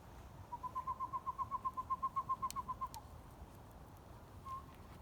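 A pygmy owl gives a long series of about twenty evenly spaced, mellow toots, clear but moderately distant, then falls quiet, with a single faint toot following.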